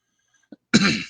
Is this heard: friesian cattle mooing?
no